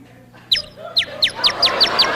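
A comedy sound effect of small birds chirping in a hair nest: a rapid series of about nine bright, sharp tweets that come steadily faster, loud and close over a quiet background.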